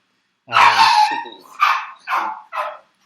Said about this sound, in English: got some crazy dogs here, folks